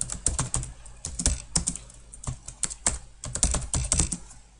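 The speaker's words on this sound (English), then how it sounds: "Remember, type your name in," A name is typed on a computer keyboard in a rapid, uneven run of close, crisp key clicks with a few heavier thumps, continuing steadily with no voices.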